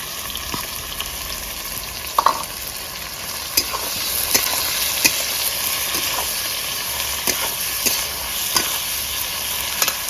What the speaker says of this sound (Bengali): জিরে লঙ্কা একটু ভাজা হয়ে গেলে এবার দিয়ে দেবো কেটে রাখা পেঁয়াজ।